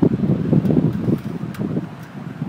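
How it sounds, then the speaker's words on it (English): Wind buffets an outdoor microphone, a low, rumbling, gusty roar that pulses unevenly and stays loud throughout. "It is windy here today"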